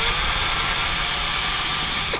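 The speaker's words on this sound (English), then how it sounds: "holding the strip board in the other hand with the drill just free floating" A handheld power drill whines steadily and loudly while it bores through stripboard, then cuts off abruptly at the end.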